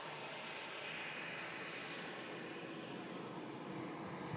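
A Turkish Airlines A321 taxis out on its way back to Istanbul, a steady, moderately distant jet engine roar holding at an even level throughout.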